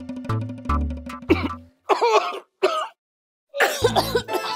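A woman gives a sequence of sharp, close coughs and throat clearings in an indoor scene. Short coughing bursts alternate with brief pauses, and a low musical tone sits under the first part.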